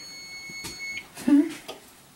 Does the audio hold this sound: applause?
no